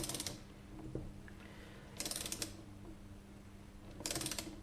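A torque wrench ratchets in short clicking bursts while tightening a Lambretta scooter clutch held with Loctite, three brief bursts spaced about two seconds apart, close by, over a low steady background hum.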